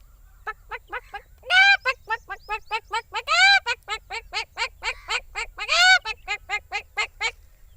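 A voice imitates a hen: a steady string of short, clucking bursts, broken by three louder, drawn-out squawks, close and clear.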